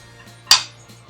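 A single sharp clatter as a hamburger patty of ground beef is set into a frying pan, a brief bright knock that fades quickly in a quiet kitchen.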